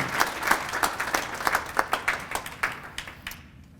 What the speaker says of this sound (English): But let's give Paul a round of applause.